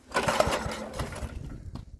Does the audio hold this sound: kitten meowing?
no